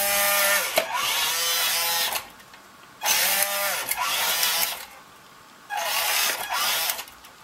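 A JJRC Q61 metal RC car runs at full speed, its motor giving a loud, high whine that surges in three bursts, each winding up fast and then cutting off, with quieter gaps between them.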